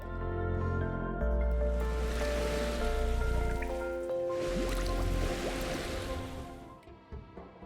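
Liquid pushed by a plexiglass paddle rolls over an acrylic cutout on a tabletop effects rig, giving soft sloshing and splashing surges that swell and fade, ending with a few small drips.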